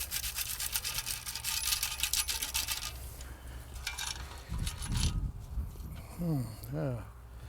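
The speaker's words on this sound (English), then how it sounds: "Okay, we've got it in the sand scoop here." Sand being sifted and shaken in a metal detecting sand scoop on a beach, with a gritty rushing rasp, then softer scrapes and rattles. Someone speaks in between.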